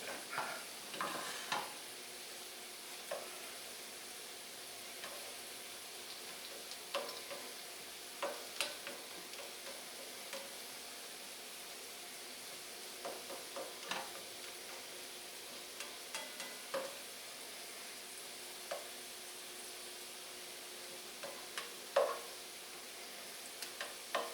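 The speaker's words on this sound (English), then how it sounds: "Stirring it all together." Quiet sizzling in a pan of instant ramen with shrimp, bacon and egg, with scattered scraping clicks from a utensil stirring, steady and low throughout, no talking.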